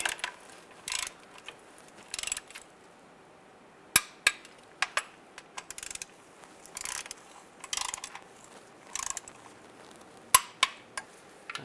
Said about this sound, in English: Now we're going to torque these bolts to 18 foot-pounds.